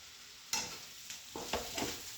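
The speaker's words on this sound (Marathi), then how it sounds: "आता परतून घेऊया." Pieces of crumbled bhakri stirred and roasted in a pan at home, with a few scraping stirs and soft sizzling bursts spaced across the clip, close and fairly quiet, no talking.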